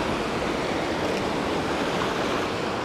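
River water rushing steadily at Clear Creek in fall, a dense, continuous close wash of flowing water with no breaks.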